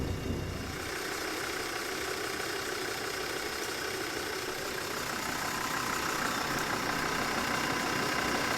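An off-road vehicle on big mud tyres runs on slippery steep clay, its engine a steady, fairly quiet idling hum under broadband noise throughout, with no talking.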